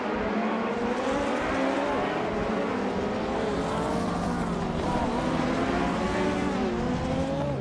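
Race cars in a video game roar past in a dense pack, engines whining and shifting pitch continuously at steady high loudness, with no pauses and no talking.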